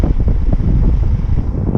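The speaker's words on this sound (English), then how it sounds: "It's super windy" Strong wind buffets the microphone beside a famous river drawbridge near Matosinhos, a loud, continuous low rumble with gusty fluctuations and no voices.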